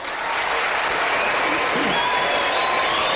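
An audience at a televised Republican presidential debate in Arizona applauds in a loud, sustained wash of clapping that swells in at the start and holds steady, with faint crowd murmur underneath.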